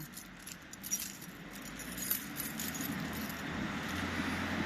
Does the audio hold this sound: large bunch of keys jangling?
yes